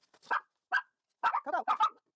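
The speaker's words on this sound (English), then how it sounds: "Coco's barking because Daddy just got home from running errands." Coco the dog barks at home in a quick series of about five or six sharp, close barks, the first few spaced apart and the last ones bunched together.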